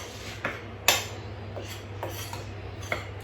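Flour seasoned with onion powder is mixed in a bowl, with a handful of separate scraping, rubbing strokes against the bowl, one sharper knock near the start, and quiet gaps between.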